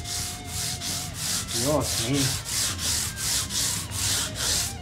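Sandpaper rubs against the wooden body of a Mexican-made Fender Stratocaster in steady back-and-forth strokes, about a dozen loud rasping passes in even rhythm, with a brief voice exclaiming partway through.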